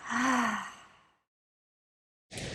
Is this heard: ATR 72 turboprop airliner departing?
no